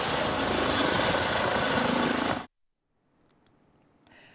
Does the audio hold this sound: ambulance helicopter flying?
yes